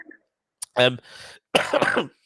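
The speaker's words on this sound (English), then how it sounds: "Sorry, terrible cough at the moment." A person coughs sharply a couple of times, close to the microphone, with brief throat noises in between.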